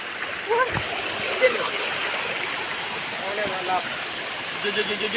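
A steady rush of falling water from a waterfall fills the scene, constant and full, with a few faint splashes and brief murmurs of voices over it.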